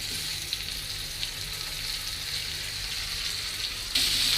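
Green mango pieces coated in spices fry in a pan for a sweet-sour pickle, giving a soft, even crackling sizzle that steps up in loudness near the end, no talking.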